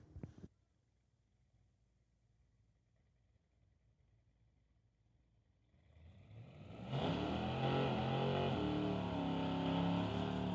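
A Sportsman drag racing car makes a solo bye run at an NHRA Summit ET points race at Mission: quiet at first, then a rising engine that swells into a loud, sustained roar as the car launches and pulls away.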